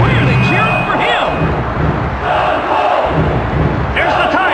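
A packed arena crowd roars continuously at a WWF Attitude-era wrestling match featuring Stone Cold Steve Austin, The Rock and the Undertaker. The cheering is loud and dense throughout, with swelling shouts and a few surges.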